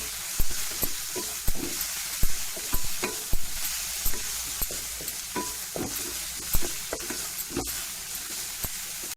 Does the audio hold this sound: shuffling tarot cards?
no